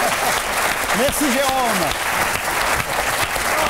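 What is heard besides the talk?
TV studio audience applause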